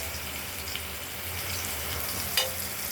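Potatoes frying in a pan for a spicy katla fish curry with tomato, giving a steady close sizzle with no voices and one brief sharper crackle near the end.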